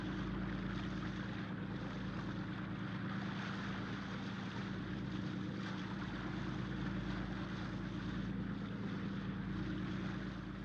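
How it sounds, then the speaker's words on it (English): A contact propeller plane approaches, its steady engine drone continuous and fairly loud, layered over a low rumble of ship or boat machinery during a flood disaster scene. "Contact plane approaching on schedule."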